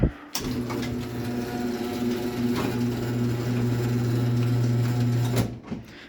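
A LiftMaster 1245 garage door opener runs a mini door with a steady, loud motor hum and chain rattle for about five seconds, then stops abruptly with a short clunk.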